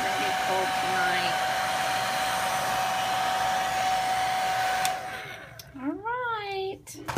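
A hair dryer blows loud and steady while a hedgehog is dried after a bath, its constant whine running for about five seconds before cutting off and a voice speaking.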